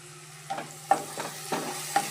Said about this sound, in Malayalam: അതിന് എണ്ണയൊഴിച്ച് ഉള്ളി വാട്ടിയാണ് ചെറിയുള്ളിയാണ് ഞാൻ ഉപയോഗിക്കുന്നത്